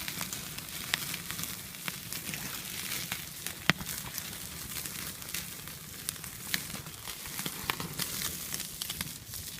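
Lamb chops sizzle over a campfire at a wild hammock camp, a soft steady frying hiss with scattered crackles and pops, fairly quiet and continuous with no talking.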